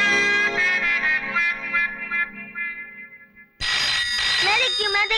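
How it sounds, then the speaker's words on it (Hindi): Telephone bell ringing in a Hindi romantic drama film, a loud trilling ring alone over a music bed, cutting off and then resuming sharply, bright and close. "दीदी तुम्हारा फोन है"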